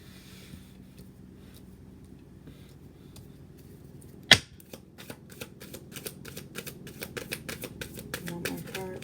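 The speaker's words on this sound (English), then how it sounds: "y'all saw me shuffle these cards" Tarot cards being shuffled by hand, a soft rapid riffle of card edges picking up near the middle and continuing as a run of light clicking flutters, close to the microphone, with speech around it.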